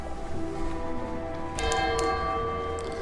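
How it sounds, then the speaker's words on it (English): A bell tolls in the nautical video game Sunless Sea, its clear ringing tones rising near the middle of the clip over a steady layered game ambience and fading with sustained overtones. "the bell has rung"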